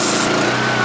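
A Mi-T-M 3500 psi, 4 gpm gas pressure washer engine runs steadily up close, a loud, continuous buzzing drone with an even rhythm, with a short hiss at the very start.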